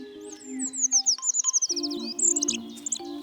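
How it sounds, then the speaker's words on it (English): A Eurasian treecreeper calls in woodland with a quick run of high, thin, descending notes, followed by a few more short chirps, close and clear over a faint low background hum. "This feathered miniature is a Eurasian tree creeper."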